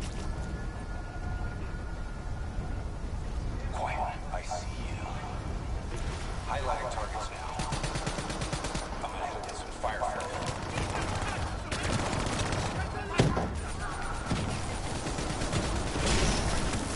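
Rapid laser weapon fire in a Call of Duty match, a near, continuous stream of shots among game effects and explosions, with someone talking over much of it.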